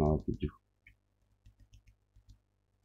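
Computer keyboard keys, including the space bar and enter key, give a run of soft, quiet clicks at close range after a brief voice at the start.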